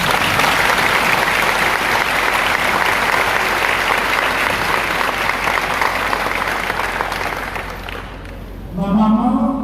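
Sustained loud applause from an audience in solidarity at a university graduation ceremony, a dense continuous roar of clapping that fades near the end before a voice begins speaking.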